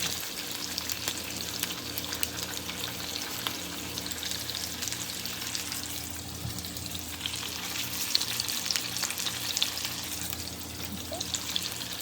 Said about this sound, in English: I like to fry my gyoza.